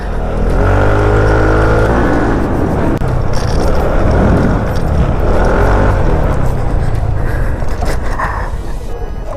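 A Motorstar Easyride 150P CVT scooter engine runs and revs steadily during a test, a loud continuous droning hum with rising and falling pitch over about nine seconds, no speech.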